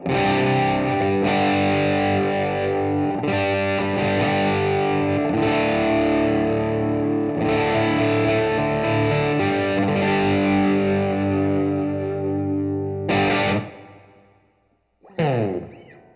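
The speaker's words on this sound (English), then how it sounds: "The overdrive tones sound really nice" Heavily distorted electric guitar power chords ring out thick and loud through a Line 6 POD HD500x multi-effects processor with overdrive, no amp, sustained strums with a few pauses, then a final stab after a brief gap.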